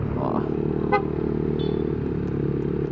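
A Honda ADV160 scooter with an upgraded CVT accelerates while carrying a 70 kg passenger, its engine a steady continuous drone heard close up from start to finish.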